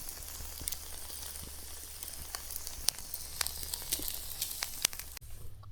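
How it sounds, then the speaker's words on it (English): A 16-ounce T-bone steak sizzles directly on campfire coals outdoors, a steady close crackling hiss with sharp pops scattered throughout and a low rumble underneath that drops away near the end. "16-ounce T-bone right on the coals"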